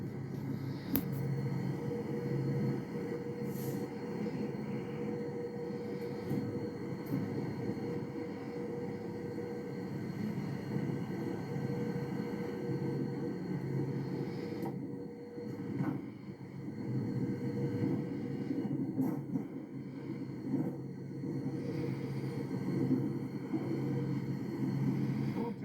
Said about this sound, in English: Train running.